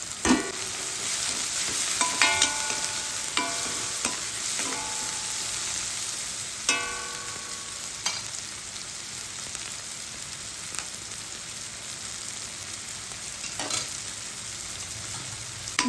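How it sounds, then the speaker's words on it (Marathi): Tomatoes and masala fry in a pan for a Marathi-style ivy gourd bhaji, with a steady sizzle throughout and repeated sharp scrapes and clinks of a spoon stirring against the metal. "टोमॅटो पण छान हलवून घेऊया"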